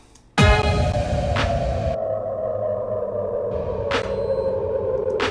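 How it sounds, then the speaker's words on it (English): Down lifter effect in a hip hop production, a sudden bright hit followed by a sustained tone with a descending sweep, loud and alone, with soft repeating pings over it. "Here's a down lifter."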